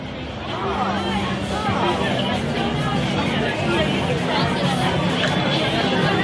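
Dense crowd chatter fills a busy hall at World Maker Faire 2015, a steady, close wash of overlapping voices and babble that holds level throughout.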